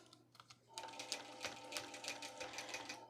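A longarm quilting machine stitching through a baby quilt, with a fast, even rattling hum of the needle starting up abruptly and running steadily at close range.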